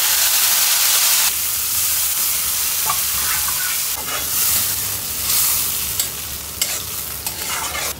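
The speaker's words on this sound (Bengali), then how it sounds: "তেলের মধ্যে শুধু পেঁয়াজ, জিরা আর অল্প একটু রসুন।" Onion, cumin and a little garlic fry in hot oil, opening with a loud sizzle and then easing into a steady hiss, with stirring scrapes and occasional sharp pops near the end, and no voices.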